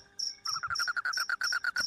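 A cricket chirping in short, rapid pulses, close and clear, repeating in a fast regular rhythm for a couple of seconds with nothing else around it.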